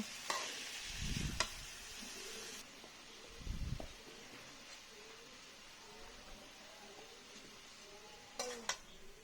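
Beef with vegetables braises in a pan, a faint low sizzle under a quiet room, broken by a few stirring scrapes and clinks of a utensil against the pan.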